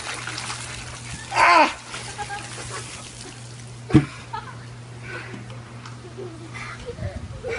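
Bucket of ice water poured over a person outdoors for an ALS ice bucket challenge, one short loud splash and spatter followed later by a sharp thud and faint trickling.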